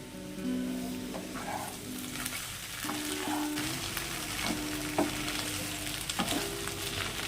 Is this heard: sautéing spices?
yes